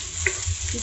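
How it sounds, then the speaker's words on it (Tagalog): Adobo spices fry in a pan for squid adobo, giving a brief sizzle with a quick stirring scrape, close and fairly loud, with no voices. "haluin lang natin hanggang sa lumabas yung amoy ng ating"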